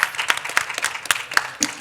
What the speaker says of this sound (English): Maisy, a round of applause.